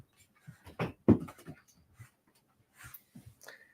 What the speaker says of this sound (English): And I've got a doggy.